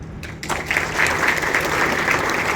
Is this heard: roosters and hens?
no